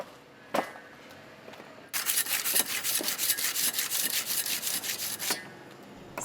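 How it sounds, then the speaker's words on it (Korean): Ice shaved by hand for Korean patbingsu: a steady, rhythmic scraping and rasping runs for about three and a half seconds after a brief single scrape, close and fairly loud. "쓱싹쓱싹 얼음 가는 소리가 들리면 어김없이 모여들었던 동네 아이들."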